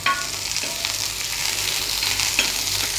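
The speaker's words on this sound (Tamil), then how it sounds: "கொஞ்சமாக எண்ணெய் ஊற்றிட்டு அதில் சின்ன வெங்காயம் நான் போட்டிருக்கேன்" Finely chopped shallots fry in a little oil for a Thanjavur fish curry, giving a steady, close hiss and crackle that holds evenly throughout with no talk.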